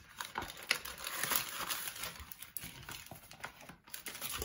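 A plastic packaging pouch holding a Spigen Rugged Armor phone case is opened and handled up close, producing a run of crinkling, rustling and crackling with small sharp ticks and no speech.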